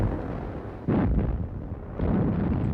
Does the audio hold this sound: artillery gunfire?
yes